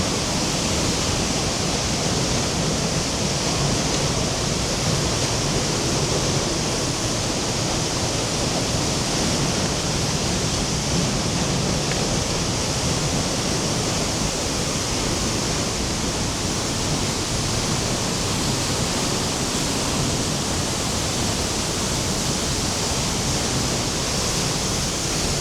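A large waterfall in Iceland in winter roars in a steady, unbroken wash of broadband noise, loud and close, without any voices for the whole stretch.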